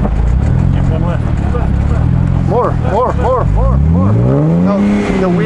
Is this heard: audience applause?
no